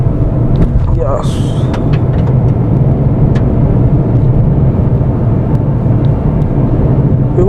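A Renault Kiger driving off-road over bumps, heard from inside as a loud, steady low engine and road rumble with a few scattered knocks and jolts.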